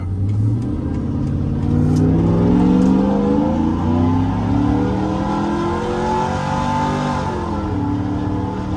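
A supercharged 2010 Chevrolet Silverado truck with coilovers revs its engine while driving, a loud, sustained roar with rising and falling pitch sweeps throughout.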